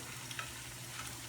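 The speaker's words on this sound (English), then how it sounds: "we're actually frying in canola oil." Breadfruit slices frying in canola oil in a pan, a soft, steady sizzle with faint crackles, quiet and close with no voices.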